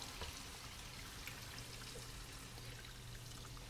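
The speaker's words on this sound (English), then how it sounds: "All right, I got 2 cups of some beef broth." Beef broth, about two cups, poured into a pan of butter-and-flour gravy, making a steady liquid pour and trickle that runs continuously at close range with no talk.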